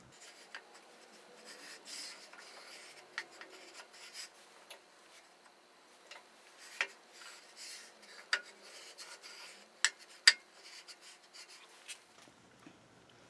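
Pencil lines being drawn across a lathe-turned wooden piece to mark out a grid, a soft scratchy rubbing with a series of sharp, distinct strokes ticking in irregularly, close and fairly quiet throughout.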